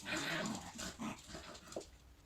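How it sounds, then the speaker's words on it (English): Dogs whimper and growl faintly in the background of a quiet indoor room, giving short muffled whines and rumbles. "there goes my dogs in the background again"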